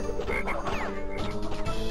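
Frogs croaking in Crash Bandicoot 3, a loud, steady chorus of repeated croaks over game music with a few quick sliding effects.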